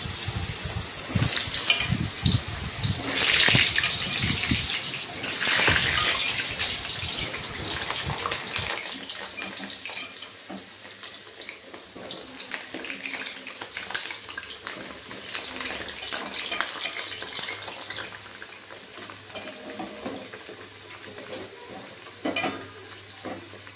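Cut potatoes go into hot oil for a Bengali mutton kosha, starting with a loud, broad hiss and splashing crackle that settles into a steady, softer sizzle with occasional clinks.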